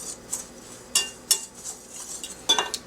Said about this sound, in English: we're just going to whisk this together until well combined